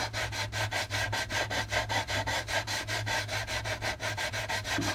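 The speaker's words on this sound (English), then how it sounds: "So you want to follow this angle with your sandpaper, and you're gonna go cross sand in one direction" Sandpaper rubbed in quick, regular back-and-forth strokes across a plastic part from an AMT U.S.S. Enterprise model kit, close and steady for the whole stretch with no talking.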